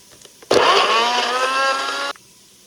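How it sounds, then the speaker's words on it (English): Ginger and garlic crushed in an electric grinder, a loud steady whirring burst of about one and a half seconds that starts and stops abruptly, up close. "So now I will just crush the ginger and garlic."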